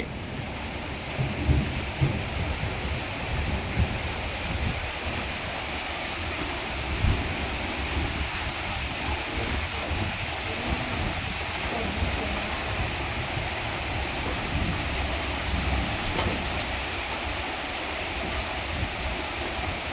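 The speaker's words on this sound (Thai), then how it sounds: "นอนฟังเสียงฝนหล่นลงหลังคาเบาๆ" Steady rain pours down on a roof in a constant wash of hiss, with low rumbles beneath, continuous and enveloping.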